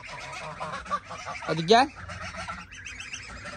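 Chickens being called into the coop in a village yard on a cool summer day, with a loud honking cackle standing out briefly amid background clucking while a person calls to the birds.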